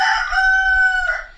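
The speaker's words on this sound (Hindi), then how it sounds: "अभी कोई मुर्गा नहीं बोल रहा जिसका वो रिप्लाई कर रहा है।" A rooster crows once, loud and close, with a long sustained tonal call that holds steady before dropping and trailing off at the end.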